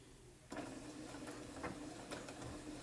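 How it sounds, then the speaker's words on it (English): A sewing machine runs a steady stitch on a garment alteration, resewing over a spot that had a hole; the motor starts abruptly and then hums continuously at close range without talk. "I'm gonna go back to where I think I started at and sew it one more time"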